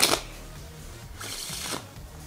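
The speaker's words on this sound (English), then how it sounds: "Now I'm gonna give the pack a few shuffles like this." A pack of playing cards is shuffled by hand at close range, two quick riffling bursts of crisp fluttering clicks separated by a brief pause.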